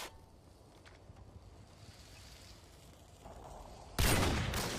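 Sniper rifle fire in Modern Warfare 2 gameplay: a low, muffled game soundscape gives way to one sudden loud report near the end, its noisy blast ringing out over the final second with no talking.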